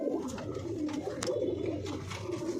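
High-flying pigeons in a loft, cooing softly and steadily throughout, a continuous low murmur of several birds close by with faint rustling, no talk.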